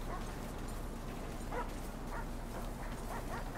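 A police dog in the video game GTA 5 barks a few times in short, moderately faint bursts over a constant low background hum.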